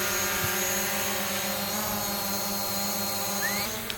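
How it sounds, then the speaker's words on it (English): A steady droning whine carries throughout from a drone aircraft flying overhead, loud and continuous with layered harmonic tones and no pauses. "Yes, that is a drone"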